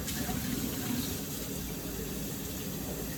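Water pours steadily into a jar in a continuous, even gush, fairly quiet and unbroken throughout, with no talk over it.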